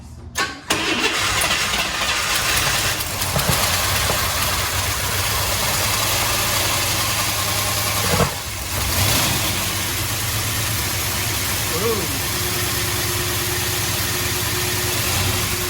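An old car engine cranks, catches and starts, then settles into a loud, steady running idle with a brief surge in revs partway through, close and continuous.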